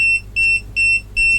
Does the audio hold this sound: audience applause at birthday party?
no